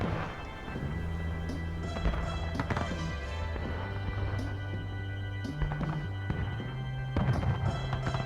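Heavy battleship shells from a naval battle game land as deep rumbling booms, rolling like distant thunder over a steady droning background, with sharper crashes scattered through the stretch.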